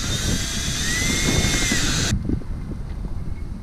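A power drill drives self-stopping screws into a plastic milk crate, whining loudly for about two seconds before stopping sharply, followed by soft handling clicks and rustle.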